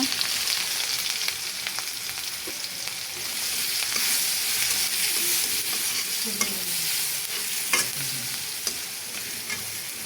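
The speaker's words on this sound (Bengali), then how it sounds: "কড়াইতে পরিমাণ মতো তেল গরম করে পেঁয়াজ কুচি কাঁচামরিচ কুচি দিয়ে দেব" Chopped onion and green chili fry in hot oil in a wok, a continuous close sizzle broken by several sharp clicks and scrapes of a spatula stirring, with no voices.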